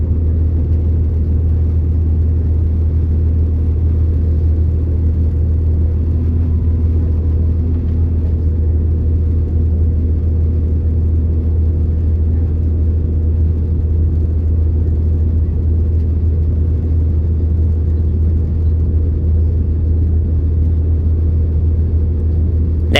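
EMR passenger train rolling along the tracks between Derbyshire stations toward Alfreton, heard as a steady low rumble and whir from onboard, constant and unbroken throughout.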